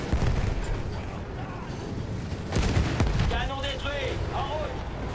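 Cannon and gunfire blasts from the World War I shooter Battlefield 1, a dense, loud rumble of shots with a sharp louder burst mid-clip, while a player talks over the battle.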